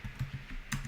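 Quick keystrokes on a computer keyboard on Windows 11, several close, light clicks in an uneven rhythm, no voices.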